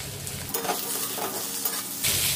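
Potatoes and onions sizzle steadily in a hot pan while a utensil stirs and scrapes through them a few times, close and continuous.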